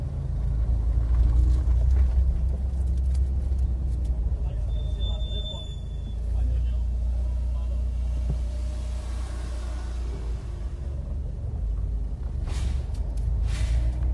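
A car drives along with a steady low engine and road rumble, close inside the cabin, with a brief high whine partway through and people talking over it.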